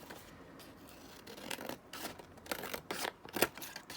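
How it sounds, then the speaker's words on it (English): Scissors cut down journal cards up close, making a series of crisp paper snips with rustling between them that grow louder toward the end. "So just cutting the journal cards all down"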